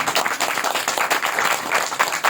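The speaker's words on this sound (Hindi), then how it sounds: "बजाओ ताली" Audience members at a gathering where love poetry is recited clap together in a dense, continuous patter of hands, moderately loud and even throughout, with no voices over it.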